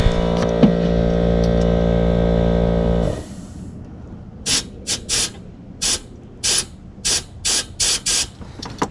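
A steady rushing hiss of air blown through a jet ski's lines runs for three seconds, then stops; a series of short, sharp air puffs follows in an irregular rhythm.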